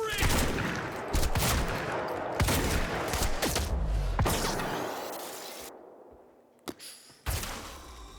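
Gunfire in the video game Quantum Break: loud, rapid bursts of shots and impacts crowding the first half, then thinning to a few sharp isolated cracks amid fading noise.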